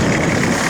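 A tractor engine runs while balage is unrolled in a cattle pasture, a loud, close, steady low rumble with a constant drone and no voices over it.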